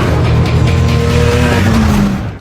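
In a film chase scene, a car speeds off with a loud, close tire squeal over a roaring engine in one brief burst.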